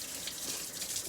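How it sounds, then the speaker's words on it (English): Tap water runs steadily from a kitchen sink faucet as hands are washed during cooking, a continuous close hiss with no pauses. "I'm washing my hands, guys."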